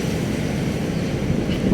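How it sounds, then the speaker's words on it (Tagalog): A new red LRT light rail train passes on a Manila street at night, a steady broadband rumble and roar that holds close and even for under two seconds. "may LRT kulay pula rin, bago"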